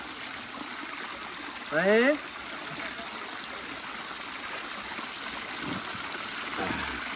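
Fresh water flows in a mountain stream in the Sierra de Gádor, a steady gentle trickle heard from close by throughout, with a brief spoken word and faint voices over the top.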